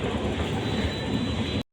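A metro train arrives at Dum Dum station with a loud, steady rumble and rattle of carriages on the rails, heard up close. The noise then cuts off abruptly near the end.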